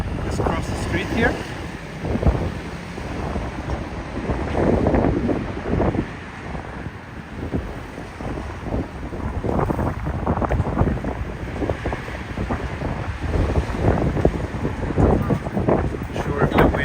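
Wind buffets a handheld microphone beside the Tama River in Tokyo, a continuous rumbling roar with gusty swells that rise and fall loudly throughout, no voices heard.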